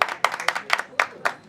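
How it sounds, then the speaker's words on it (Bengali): A small group claps hands at an International Mount Everest Day gathering of mountaineers: about six sharp, uneven bursts of applause close by, with no words spoken. "আরে হাততালি দাও।"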